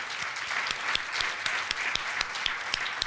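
A room of attendees at the NEPA Learning Conference 2019 closing plenary gives a round of applause, continuous close clapping with sharp individual claps standing out over a steady wash.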